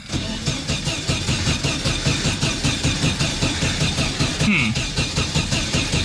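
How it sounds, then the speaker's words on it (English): A 1974 VW Super Beetle engine cranks steadily without catching, the starter churning in a fast, even rhythm for several seconds, loud and close. "I actually expected it to start and it didn't."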